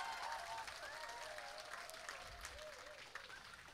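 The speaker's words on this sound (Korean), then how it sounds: "여러분 박수로 환영해 주십시오." A crowd at an outdoor political rally in Dobong claps steadily to welcome a guest, with faint amplified voices and music underneath.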